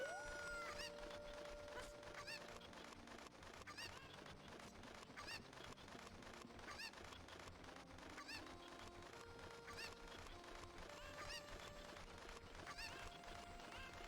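Cucco chickens from Zelda: Ocarina of Time clucking and squawking repeatedly over steady game music, quiet and continuous throughout.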